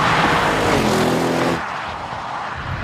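Powerful Audi engine roars loudly as the car is driven fast, a strained, rising mechanical howl that abruptly drops to a quieter, rougher rumble partway through, with no voices.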